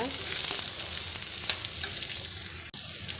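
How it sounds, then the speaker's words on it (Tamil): Ingredients for a tamarind kuzhambu fry in a pan, making a steady close sizzle with faint stirring, and a brief dropout near the end. "ஒரு 2 நிமிஷம் அப்படியே வதங்க விடுங்க."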